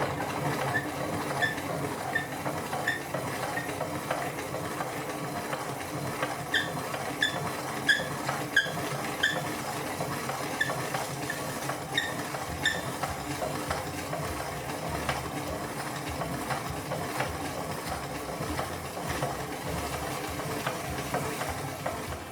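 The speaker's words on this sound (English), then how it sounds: "you're going to grind this until it's very fine and smooth" A blender grinds dal with seasonings into a fine paste, giving a steady, loud motor whir with rough grinding texture that runs unbroken for over twenty seconds.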